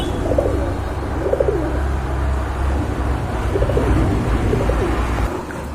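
A pair of pigeons coo repeatedly in rhythmic bursts over a steady low background hum, the soft calls close and moderately loud, with no talking.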